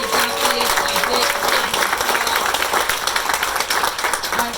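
Audience applause at an outdoor groundbreaking ceremony: a sustained round of clapping from a crowd, steady and fairly loud for several seconds.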